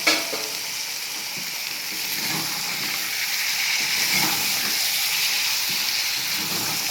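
Tomatoes fry in a pan for a prawn curry, giving a steady, close sizzle and hiss that builds slightly and holds throughout, with faint stirring scrapes, no talk.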